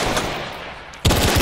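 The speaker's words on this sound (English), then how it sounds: "Shots are flying around you." Gunfire in the military shooter game Arma 3, a burst of automatic shots that fades, then a sudden louder volley of rapid shots close by.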